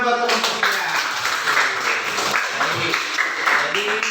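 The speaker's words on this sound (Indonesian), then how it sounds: "berikan dulu tepuk tangan buat kelompok 3" A classroom group applauding group 3 after their discussion, a steady wash of many hands clapping, loud and continuous throughout, with voices mixed in.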